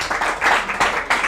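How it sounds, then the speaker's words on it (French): Audience applause for a singer at a school talent competition, a dense wash of clapping in surging waves that swells and dips several times over a little more than a second. "Est-ce qu'on peut applaudir pour elle?"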